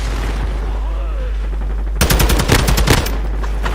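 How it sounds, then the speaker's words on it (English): Rapid automatic gunfire from Modern Warfare 2 multiplayer, a dense burst of close, loud shots lasting about two seconds after a quieter stretch of game ambience. "The guns sound crispy"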